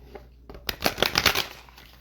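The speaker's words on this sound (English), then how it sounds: "I kind of shuffled" A brisk riffle of tarot cards being shuffled, a rapid papery flutter lasting about a second after a soft tap, close by with a quiet room behind.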